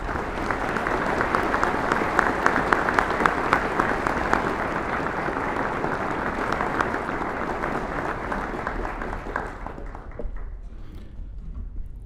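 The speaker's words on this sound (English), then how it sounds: "let's give all of these distinguished guests a round of applause" An audience at a university presidential inauguration applauds distinguished guests, a dense sustained roar of clapping hands that holds steady, then thins and fades out near the end.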